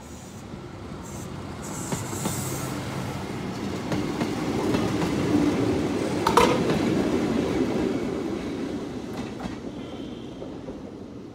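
A Kintetsu 16000 series express train running out of service departs Kashiwara station with a continuous rolling roar that swells and then fades as it pulls away, faint clicks over the rails.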